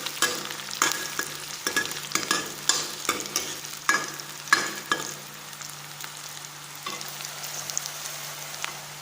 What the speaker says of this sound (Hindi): तो अब प्याज भुन चुके हैं। जब ये गोल्डन ब्राउन हो जाएंगे, थोड़ा सा और भूनूंगी मैं इनको।